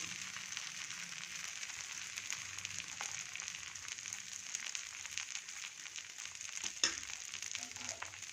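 Dosa batter sizzles steadily on an oiled tawa, a continuous bright frying hiss with small crackles and one sharper clink near the end; no talking.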